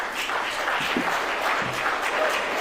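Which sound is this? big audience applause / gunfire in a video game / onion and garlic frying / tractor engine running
big audience applause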